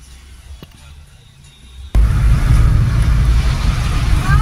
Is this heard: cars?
yes